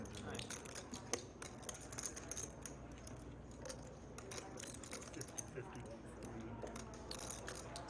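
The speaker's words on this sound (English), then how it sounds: "Shuffling his chips." Poker chips clack in quick, light, repeated clicks as a player shuffles them at a tournament table, under a steady murmur of room noise and voices.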